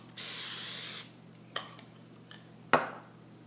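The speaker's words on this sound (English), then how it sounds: "The next step is put your cooking spray in your pan." Cooking spray hisses from an aerosol can into a brownie pan in one steady burst of about a second, followed by a few light clinks of the can and pan, close by.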